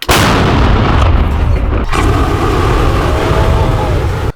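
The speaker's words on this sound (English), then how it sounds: "shooting those guns and blowing stuff up, that is a lot of fun" Guns firing and things being blown up, a very loud, sustained roaring blast with booming crackle that fills the whole stretch and sounds close and overwhelming.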